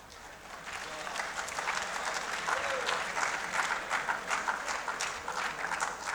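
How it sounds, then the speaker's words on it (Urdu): Sustained applause from an audience filling a hall at a talk on Pakistan's debt, dense clapping holding steady and loud for several seconds. "یہ تالیاں آپ نے اس لیے بجائیں کہ پاکستان ڈوب رہا ہے"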